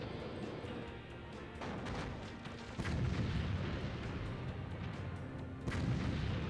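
Grenade blasts in the N64 tank game BattleTanx boom amid rumbling battle noise, with two sharper explosive hits standing out over a constant low, moderately loud din.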